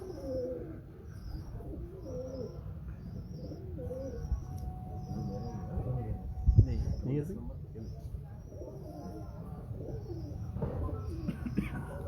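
Pigeons kept by a Karachi fancier coo in repeated soft, throaty phrases close by, with scattered chirps and brief rustles in between, while people talk intermittently beneath the birds.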